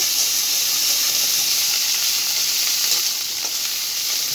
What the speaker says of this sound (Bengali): অল্প তেলে আমি মশলাটা ভেজে নেব